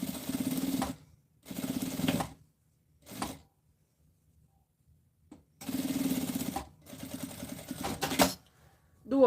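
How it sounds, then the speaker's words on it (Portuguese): A domestic sewing machine stitches fabric while making a zippered box-style pouch, running in several loud, steady bursts separated by short pauses, with a few quieter clicks between runs. "passa a costura aqui"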